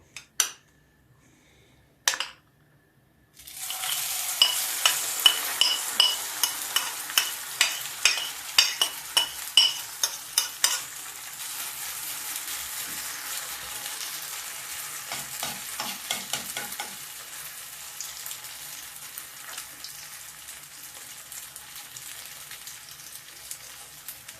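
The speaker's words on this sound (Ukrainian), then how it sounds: "На заздалегідь розігріту сковорідку викладаємо нашу вермішель швидкого приготування разом з яйцем." Instant noodles and egg sizzle and crackle loudly in a hot pan after a couple of clattering knocks, with utensil scrapes and stirring clinks over the steady frying hiss.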